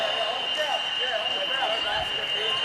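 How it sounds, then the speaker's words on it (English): A fire alarm sounds in a gymnasium during a school basketball championship, a continuous high, piercing tone that holds steady throughout beneath a commentator's voice and faint court noise. "Tell you what's also effective is the ongoing siren that seems to be going off here."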